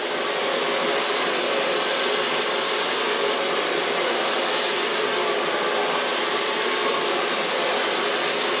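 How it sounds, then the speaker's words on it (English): A hair dryer blow-drying long, fine hair gives a steady, loud airy whoosh that stays constant throughout with no voices. "And gently blow drying the hairs."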